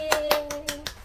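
Five crisp hand claps from children in a classroom cheer ring out in a quick, even rhythm, fairly close, with a faint steady tone humming underneath.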